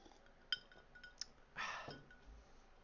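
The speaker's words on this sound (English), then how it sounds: "Take a quick sip of water." A glass of water clinks a few times, light and close, then a brief soft slurp of a quick sip, all very quiet with no talk.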